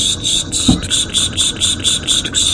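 A text-to-speech voice imitates a garden sprinkler with a fast, even run of hissing ticks that repeat steadily and loudly, like a sprinkler head sweeping around.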